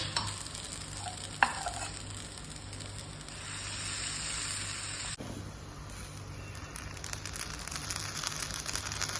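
Stuffed wheat flour paniyaram (suzhiyam) batter fries in hot oil with a steady, close sizzling hiss, broken by a couple of sharp clicks from the pan. No one speaks.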